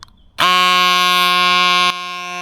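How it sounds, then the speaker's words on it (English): Cospo electric tyre inflator pumping up a tyre, a loud steady high-pitched mechanical drone that starts abruptly, runs evenly for about a second and a half, then drops to a lower continuous hum, close by with no talk. "That did not take that long at all for the Cospo to get from 12 psi up to 31"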